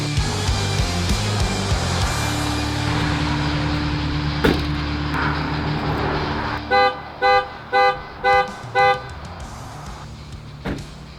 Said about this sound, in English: So this daycare bus is equipped with an alarm.